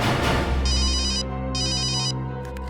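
A telephone ringtone sounds in a crime drama, two bursts of bright electronic trilling over a steady low background hum, with no talking.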